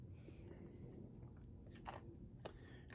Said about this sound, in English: You're chewing with your one tooth.